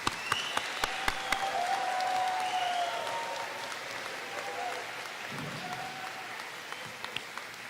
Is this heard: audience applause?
yes